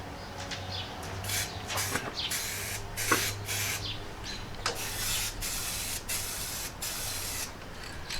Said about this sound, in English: what I like to do is hit the couple of rusted spots first, and then paint the whole thing